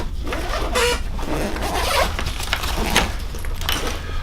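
A zipper being pulled on a LowePro Protactic 450 AW camera backpack, several rasping zip strokes close up over a steady low background rumble.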